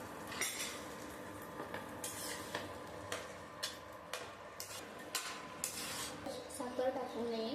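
Grated carrots for gajar halwa are stirred in a pan, a soft close scraping with regular clinks of a spoon against metal, fairly quiet, with a faint background voice now and then.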